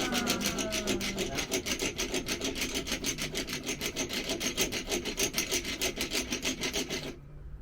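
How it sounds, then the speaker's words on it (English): An ancient-style hand drill bores into wood with a fast, even run of rasping, rubbing strokes, close and continuous for about seven seconds before stopping abruptly. "It's a drill. It's a drill."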